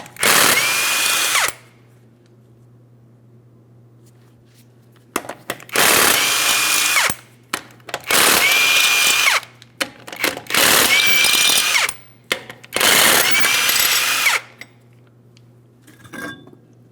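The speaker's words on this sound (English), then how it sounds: "we're going to be using a 21mm to remove all 5 of our lug nuts." A power tool spins off 21mm lug nuts from a Ford Transit 250 front wheel, five loud close bursts of about two seconds each, with quiet gaps and a steady low hum between them.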